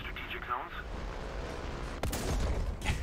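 Tank cannon fire in the War Thunder video game, set among in-game battle rumble: a sharp heavy report lands near the two-second mark with a booming tail, while a voice talks briefly early on.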